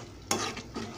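A spoon turns cucumber mutton curry in a pot with a quick wet swish and scrape over a low simmering bubble.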